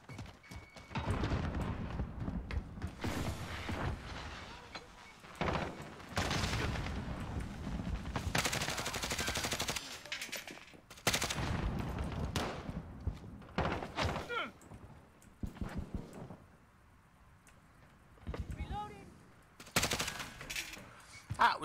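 Call of Duty gunfire comes in heavy repeated bursts and single loud shots, broken by brief quiet gaps, with someone talking over the action.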